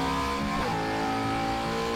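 A Shelby car in Forza Horizon 3 accelerates hard on a mile run, its engine revving loudly with a rising whine and a brief shift or tire chirp midway, with no voices over it.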